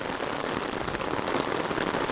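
Heavy rain pours down outdoors in the open countryside. A dense, loud, constant hiss of drops hitting surfaces continues without a break through the whole clip, with no talking.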